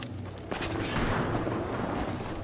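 Gunfire in Apex Legends, a sudden loud boom followed by a sustained, rumbling burst of shots and explosions.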